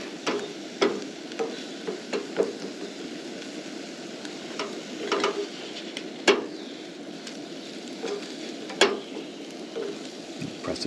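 An egg fries in a pan for a bacon, egg, cheese and tomato bagel sandwich, cooked until dry. A steady soft sizzle runs throughout, broken by scattered sharp taps and clicks from a utensil, with no talking.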